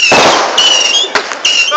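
New Year's fireworks burst close by, loud crackling explosions with sharp pops and thin whistling streaks in quick succession over a short span.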